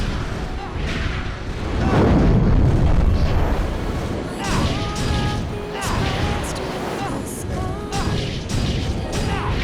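In Drakengard 2 on PS2, a dragon breathes fire with a loud, sustained roaring whoosh and rumbling crashes that swell and persist, while voices and game music play alongside.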